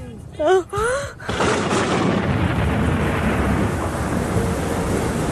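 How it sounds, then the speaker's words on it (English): A radio-drama thunderstorm effect rises after a few spoken words: a heavy, sustained roar of thunder and driving rain that stays loud and steady to the end. "we were hit by a storm of incredible ferocity"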